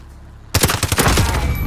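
Rapid gunfire from an AMX gun in a video game bursts in suddenly after a quiet moment, then keeps up as a loud, close string of shots.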